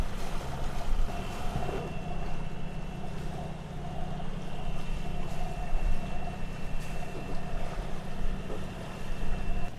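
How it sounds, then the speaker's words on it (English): A sailboat motors out of a Moroccan harbor, its engine droning steadily under wind and water rush, a continuous loud wash with no voices. "So I'm sailing out from Morocco."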